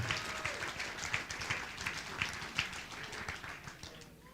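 A fight night crowd in Monroeville applauds the boxers at a distance, a steady patter of many hands with a few sharper claps standing out, quite faint overall.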